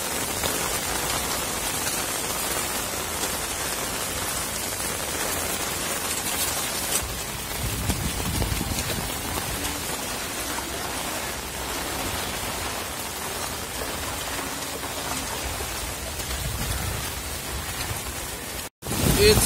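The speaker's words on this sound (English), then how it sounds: "It's raining heavily." Heavy rain pours onto a waterlogged street in Mumbai, a dense, continuous hiss of drops and running water close by, with a brief cut near the end.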